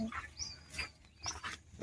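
A dog barks a few times, faint and somewhat distant, in short separate bursts against a quiet background.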